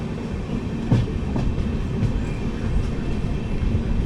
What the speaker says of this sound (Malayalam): ഇപ്പോൾ 2018 TDDS ലോക്കോ ഇവിടെ നിൽക്കുന്നുണ്ട്. ഇത് മധുരൈ പള്ളൂർ എക്സ്പ്രസ് ആണ്.